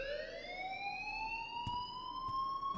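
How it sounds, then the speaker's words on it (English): A fire alarm rings in the video game Life is Strange: one steady electronic tone with bright harmonics that slowly rises in pitch, loud and continuous, with a couple of faint clicks near the end. "please turn off that alarm"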